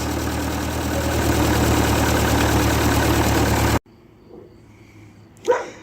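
A 1941 Ford 9N tractor engine idles steadily and loudly up close for several seconds, then shuts off abruptly, leaving a quiet background with one brief knock near the end.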